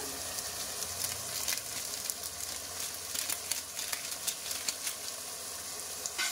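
Chili powder and garam masala fry in a pan with ginger-garlic paste, giving a steady soft sizzle with light crackles and stirring scrapes, close up and moderately quiet, with no talking.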